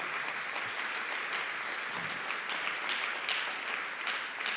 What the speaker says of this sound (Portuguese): Quem crê nisso, dá uma salva de palmas ao Senhor.